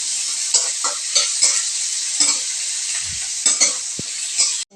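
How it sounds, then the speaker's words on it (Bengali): Chopped onion and chilli fry in hot oil with a steady, close hiss of sizzling, while a spatula stirs and scrapes in repeated bursts, ending abruptly. "আমি এটাকে নাড়াচাড়া করে একটু ভাজা ভাজা করে নিচ্ছি।"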